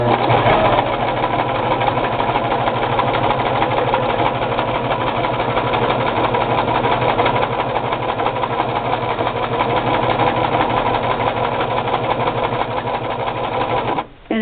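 A Brother LX3014 sewing machine stitches a braided rug in a steady, continuous whir with a fast mechanical needle rhythm, close and loud for the whole stretch, then cuts off abruptly just before the end.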